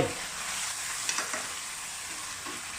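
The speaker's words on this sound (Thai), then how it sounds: "ใส่กุ้งลงไป" Constant sizzling from a hot pan with a couple of light clacks as shrimp and squid go in and get stir-fried.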